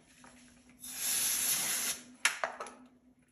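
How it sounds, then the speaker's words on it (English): A steady aerosol cooling spray hisses for about a second onto a bicycle crankset, followed by a few sharp clicks and light knocks nearby. "First, I spray it a bit."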